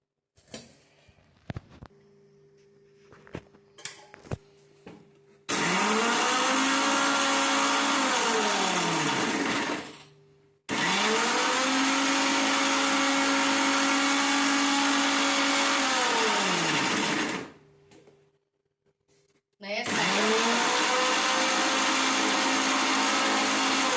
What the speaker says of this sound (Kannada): ಇದನ್ನೆಲ್ಲ ನಾನಿವಾಗ ಮಿಕ್ಸಿ ಹಾಕೊಂಡು ಬೆಳ್ಳುಳ್ಳಿ ಮತ್ತು ಕರಿಬೇವನ್ನ ಕೊನೆಗೆ ಹಾಕ್ಕೊಂತೀನಿ